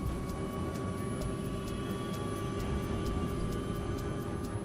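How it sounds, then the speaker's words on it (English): Airliner jet engines spooling up for takeoff on an Air Florida Flight 90 plane in cold weather, a steady loud broadband roar with a sustained high whine and tonal hum running throughout. "The engines spool up quickly."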